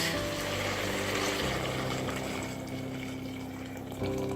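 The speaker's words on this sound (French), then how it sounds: "Je vais ajouter à peu près 1 litre d'eau bouillante." About a litre of boiling water poured into a pot of carrot soup with coriander, a continuous close rushing and gurgling of liquid, steady and moderately loud, with no talk.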